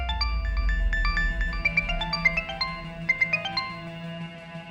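A phone rings with a melodic electronic ringtone, a quick run of bright chiming notes repeating at moderate volume over a low background hum.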